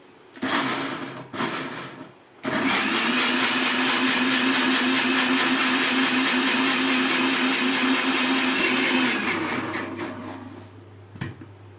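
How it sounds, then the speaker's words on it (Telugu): A mixer grinder whirs loudly and steadily, blending watermelon pieces, for several seconds after a couple of short bursts, then winds down at the end. "ఈ వాటర్ మెలన్ పీసెస్ ని మిక్సీ జార్ లో వేసుకొని మంచిగా గ్రైండ్ చేసుకోవాలి."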